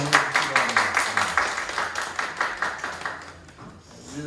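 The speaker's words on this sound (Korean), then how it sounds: "우리 큰 박수로 우리 목사님과 사모님" A church congregation at a Sabbath gathering claps for their pastor and his wife, a brisk rhythmic burst of many hands that gradually thins and fades, with a voice faintly underneath.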